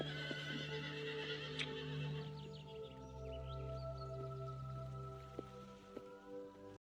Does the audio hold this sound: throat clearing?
no